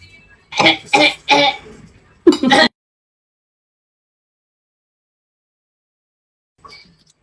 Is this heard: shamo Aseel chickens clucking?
no